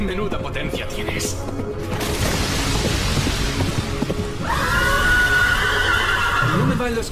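A horse whinnies in the Devil May Cry 3 video game amid clattering hooves, crashes and rumbling effects, loud and busy, followed by a sustained bright tone near the end.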